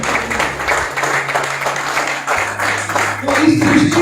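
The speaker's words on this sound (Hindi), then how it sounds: "एक बार जोरदार तालियां हमारे पेरेंट्स के लिए" An audience claps for parents at a motivational talk, a busy patter of hands building toward the end of the clip, with a low steady hum underneath.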